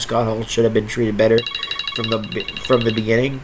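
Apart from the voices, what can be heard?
phone ringing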